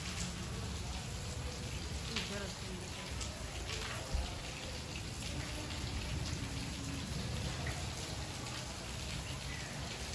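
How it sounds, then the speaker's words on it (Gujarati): Steady rain pours down, a continuous broadband hiss with scattered drops on surfaces and faint muffled voices in the background. "જો વીજળી ને વરસાદ ને બધું ભેગું થયું હતું."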